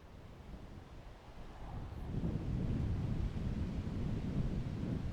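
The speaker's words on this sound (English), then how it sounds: "Oh, that gust." Outdoor wind gust on a golf course, a low blustery rush that swells after a couple of seconds and then stays strong, buffeting the microphone, with no one speaking.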